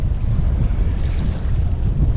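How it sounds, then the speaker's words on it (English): Steady wind buffets the microphone while a sailboat makes way in a northwest breeze off Mount Desert Island, Maine, a continuous low rumble with faint water wash and no voices. "there seems to be a nice breeze this afternoon."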